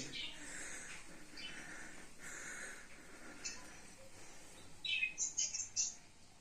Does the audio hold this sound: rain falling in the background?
no